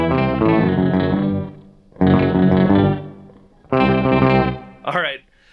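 Stratocaster electric guitar played through a PedalPCB Organ Donor DIY organ-style pedal with reverb and delay, giving three sustained chordal swells separated by short gaps and ending with a brief warbling sweep.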